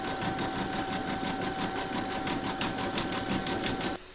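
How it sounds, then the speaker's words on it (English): A sewing machine runs steadily stitching a decorative rope-like border around a mandala coaster in silver metallic thread, a loud, fast rhythmic whirr that stops abruptly at the end. "I'm now going to stitch round number three, and that's going to do the decorative rope-like stitching around the outside of the mandala."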